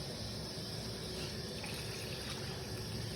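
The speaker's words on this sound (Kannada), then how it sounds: "ಇದಕ್ಕೆ ನೀರನ್ನ ನೀವು ನೋಡ್ಕೊಂಡು ಹಾಕೋಬೇಕು ಎಷ್ಟು ಬೇಕು ಅಂತ" Water poured into mutton sambar in a pressure cooker makes a steady, even rush that holds at the same level throughout, close and alone with no talk.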